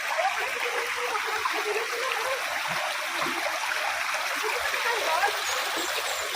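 A small stream flows at Canopy Farm, a steady close rushing and trickling of water at moderate level with no break, faint low thumps beneath it.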